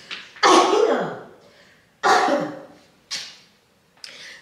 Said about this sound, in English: I'm just sneezing because my sinuses are reacting